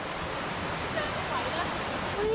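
Chaloem Phra Kiat waterfall in Betong, Thailand, gives a constant rushing roar of falling water. Faint voices and a few brief thin tones sit beneath the steady wash.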